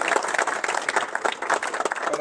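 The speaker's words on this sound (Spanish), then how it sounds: "Un aplauso para ellos." An audience at an event in a cemetery museum applauds the cemetery work team, brisk uneven clapping from a modest crowd with some murmured voices mixed in.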